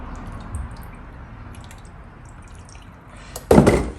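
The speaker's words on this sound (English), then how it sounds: "You just wanna pour a little bit in here." Distilled water is poured into the coolant system of a Suzuki GSXR 1000 motorcycle, making a soft trickle followed by a brief, louder splashing gush near the end.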